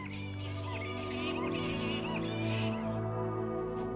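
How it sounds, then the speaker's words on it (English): A noisy colony of fruit bats calling across a river in the Kimberley, Australia, a dense chorus of squeaks and chatter over a steady low hum, close and continuous. "just across the river, a noisy group of fruit bats."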